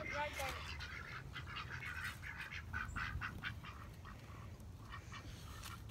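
Several domestic ducks of mixed colours quack in short bursts at a small backyard pond, close by and fairly faint over steady background noise, with a person's voice mixed in.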